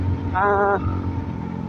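Exhaust of a KRY Rose 200 motorcycle fitted with a modified, screen-type exhaust without a divider, a steady close idle rumble with a brief rising rev in the middle, a voice murmuring over it.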